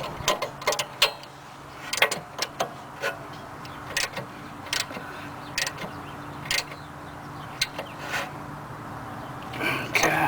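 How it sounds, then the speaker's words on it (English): Bolts being tightened on the rear brakes of a BMW E60 5 Series, a series of sharp ratchet clicks and metallic taps in irregular bursts, close and fairly quiet. "we're just gonna tighten the bolts like so"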